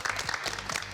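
Brief burst of audience clapping at a discussion about the quality of higher education, a dense, close patter of claps lasting under a second.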